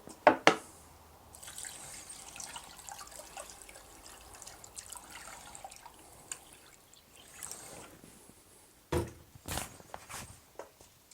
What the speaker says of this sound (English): some fresh water